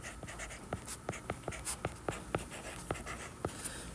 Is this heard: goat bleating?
no